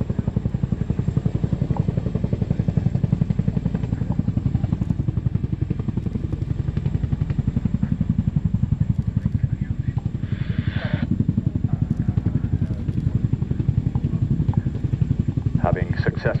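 A military helicopter at an airshow hovers and manoeuvres after dropping an underslung gun. Its rotor gives a loud, steady pulsing thump throughout, under a commentator's voice over a public address system.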